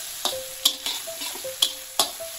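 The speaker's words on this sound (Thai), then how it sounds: "ผัดให้กระเทียมกับพริกหอมขึ้นมาเลยนะครับแต่ไม่ต้องไหม้นะ" Garlic and chili stir-fried in a pan for spicy offal basil stir-fry, a steady close sizzle broken by several sharp spatula scrapes and clanks against the pan, with no talk.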